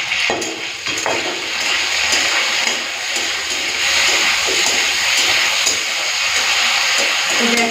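Steady, dense sizzling and crackling of beans frying in a pan, continuous and fairly loud throughout, with occasional stirring clinks.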